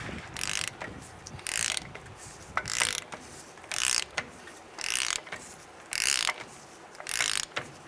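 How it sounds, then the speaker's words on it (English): Ratchet tightening the wheel bearing nut on a 1992-1996 Ford F-150, rapid clicking pawl bursts in regular strokes about every second, close and crisp with short pauses between pulls, no talking. "you're going to take this nut here and you're going to tighten it down to seat your bearings"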